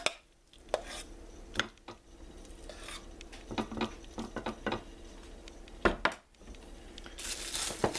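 Plates, utensils and dishes clatter and tap while food is plated, including mashed potatoes for a homestyle meatloaf meal: sharp scattered clinks and scrapes, close by and irregular, with quieter handling between them.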